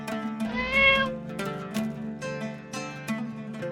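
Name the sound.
cat meowing in a cartoon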